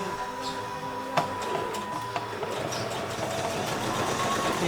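A foot-pedal sewing machine runs steadily at close range, a continuous mechanical whir with a few sharp clicks, getting slightly louder toward the end.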